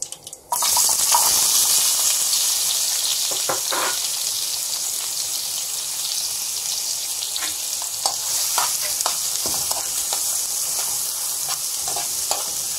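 Onions with salt frying in a pan for an egg roll gravy curry, a steady close sizzle after an abrupt start, broken by occasional stirring scrapes and clinks.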